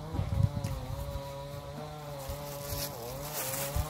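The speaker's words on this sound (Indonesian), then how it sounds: "Sementara ada suara mesin sinso di sana lagi pada nebang." A distant chainsaw felling trees gives a faint, steady buzzing whine whose pitch wavers and dips, with a few soft thumps close by and no talking.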